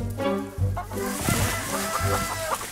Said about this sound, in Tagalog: Maghahabol lang kami ng mga manok.